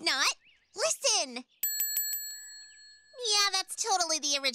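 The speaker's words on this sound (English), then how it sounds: "that's totally the original bell ring" A cartoon bell rings several times in a quick series of bright metallic dings, heard alone between stretches of lively children's character voices talking before and after.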